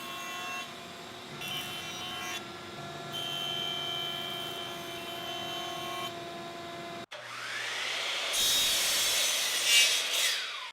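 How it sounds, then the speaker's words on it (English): A jointer flattens the face of a rough wooden leg blank for a laundry hamper, a steady whirring machine drone with a rising, rougher cutting rush near the end, close and alone. "I can, at the joiner, flatten one face and then square one adjoining face."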